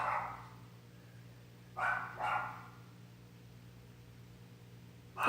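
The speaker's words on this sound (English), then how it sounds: "He likes to bark at just about everything" A dog barks indoors, a few sharp barks at the start, a quick pair in the middle and one more at the end, faint and somewhat distant over a quiet background hum.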